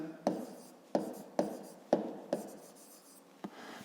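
A pen writes in a notebook during a fifth-grade maths exercise, making about six distinct scratchy strokes spaced unevenly and heard close and fairly quiet.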